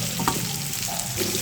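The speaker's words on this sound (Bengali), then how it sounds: "আর বন্ধুরা, এই মাছটা কিন্তু এভাবেই ভাজতে হয়" Sankar fish frying in a pan, a low steady sizzle with a couple of faint utensil taps, close by and brief.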